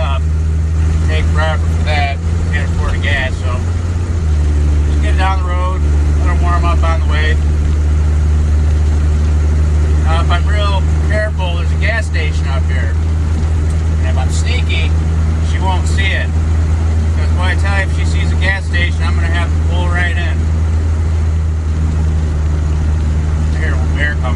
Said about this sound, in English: I didn't necessarily wait for the truck to warm all the way